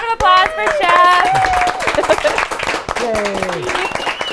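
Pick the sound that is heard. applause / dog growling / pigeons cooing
applause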